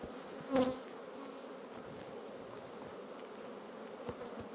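A steady, low buzz of many honeybees hovering close around an open hive, continuous and droning, with one brief louder knock near the start.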